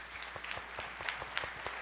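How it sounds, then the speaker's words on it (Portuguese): An audience at a law talk in Porto Alegre applauds a speaker being introduced. The clapping is quiet and distant and comes in brief separate claps. "Senhoras e senhores, palmas para Thiago Anielen."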